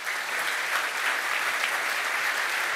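A studio audience at a sports game show applauds a winner, a dense, steady wash of clapping hands that holds at full strength from start to finish with no voices on top.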